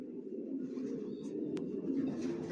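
Racer pigeons kept together in a loft coo softly in low, rolling murmurs, several birds overlapping close by, with a faint tick partway through.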